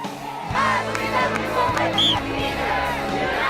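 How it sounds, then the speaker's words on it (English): A large crowd at a Parkland victims rally in downtown Raleigh keeps up a steady, loud roar of cheering and shouting, with a reporter talking over the hubbub. "You can feel the energy in this crowd"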